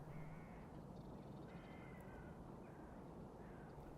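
Crows cawing repeatedly at an autumn wetland in Finland, mid-distance calls rising over a steady broadband wash of wind and water, with a few overlapping harsh caws spread across the stretch.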